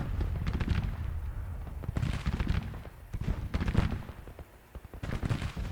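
Artillery and musket fire roll across a Grand Tactician: The Civil War battlefield, with repeated booming reports and crackling gunfire in dense, overlapping bursts, loud and continuous throughout.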